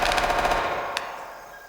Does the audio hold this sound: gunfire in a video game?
yes